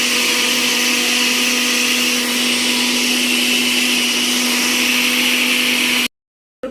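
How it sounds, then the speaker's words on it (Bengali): A kitchen mixer grinder grinding peas, heard as a loud, steady motor whine with a constant hum that runs for about six seconds, then cuts off abruptly into silence. "পিষে আনি মিক্সিতে।"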